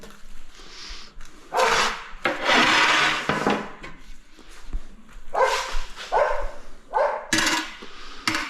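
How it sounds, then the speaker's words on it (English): Dogs bark in a string of bursts at a tiling job, moderately close, with gaps of quieter background between the barks. "The doggies are woofing this morning."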